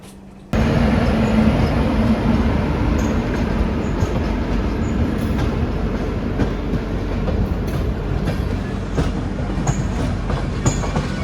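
Magadh Express pulling into a platform at DDU station, a loud rumble with steady clickety-clack of wheels on rails that starts abruptly and keeps going close by and unbroken, with faint squeals from the wheels.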